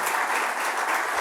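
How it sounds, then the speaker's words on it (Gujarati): An audience at a lecture gathering applauds to welcome a cardiologist speaker, a brief, dense and steady burst of many hands clapping together. "જોરદાર તાળીઓથી આપણે એમનું સ્વાગત કરીએ."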